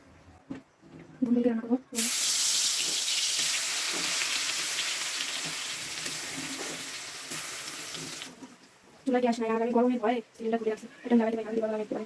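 Chopped sponge gourd is rinsed under a running tap in a home kitchen, a steady rushing hiss lasting several seconds, with someone talking before and after.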